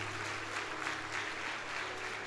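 A church congregation claps at a Sunday service, a steady wash of many hands filling the space without clear breaks for a couple of seconds.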